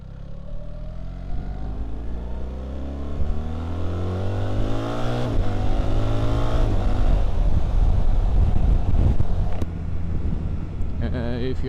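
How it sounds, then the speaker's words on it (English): A BMW R 1300 GS boxer engine pulls and revs while riding, rising and falling in pitch under heavy wind buffeting, with a voice talking over parts of it. "even the engine sound is slightly different compared to the old GS."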